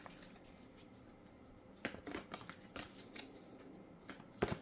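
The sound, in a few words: shuffling tarot cards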